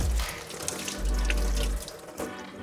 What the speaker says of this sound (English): Then rinse it off. Make sure the water is nice and as hot as you can stand.